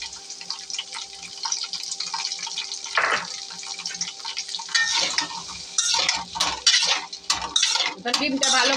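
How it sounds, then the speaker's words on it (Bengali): Bird eggs being fried in hot oil in a wok, with steady sizzling, the scrape and clink of a utensil stirring against the metal, and a louder burst of sizzle and scraping later on, with no talking. "তেল গরম হয়েছে, এখন ডিমটা ছেড়ে ভাজবো"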